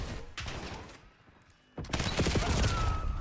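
Call of Duty gunfire comes in loud, close bursts of rapid automatic fire. A short volley is followed by a brief lull, then a longer sustained barrage.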